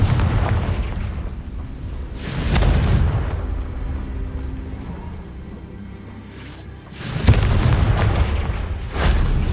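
Hogwarts Legacy's Confringo fire spell goes off in loud booming explosions, one early and another later, each with a roaring rumble that trails away between them.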